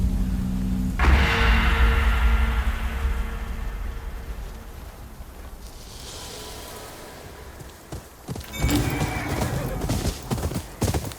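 In the video game Ghost of Yotei, a horse whinnies loudly, followed by hoofbeats and a rush of movement, then scattered clattering thuds near the end.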